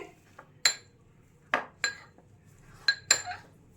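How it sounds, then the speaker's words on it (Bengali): A masher works boiled potatoes in a bowl, giving a handful of separate sharp metallic clinks against the bowl, spaced irregularly between quiet pauses. "এবার এই ম্যাশারের সাহায্যে আমি আলু ম্যাশ করে নেব প্রথমে"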